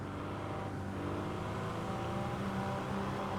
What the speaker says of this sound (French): Ah, on entend le bruit des voitures,